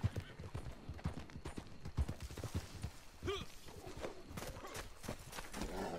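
A horse trots in a video game, a fast, steady clip-clop of hooves that runs throughout at moderate distance, with faint voices in the background.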